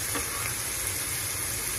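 Onions land in a hot pot for a one-pot hot dish, a steady close sizzle and hiss throughout.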